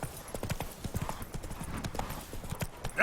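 A horse's hooves clip-clop at a walking pace in The Witcher 3 video game, a steady rhythm of close, soft thuds with a brief louder sound at the end.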